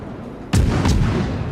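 A warship's main guns fire in World of Warships, a sudden heavy booming salvo with a second close report, followed by a rumbling tail over low battle ambience.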